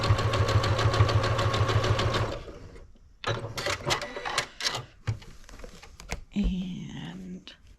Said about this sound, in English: all you do is you sew on that line you just drew